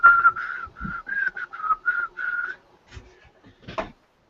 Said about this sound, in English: you're whistling the Hidamari sketch theme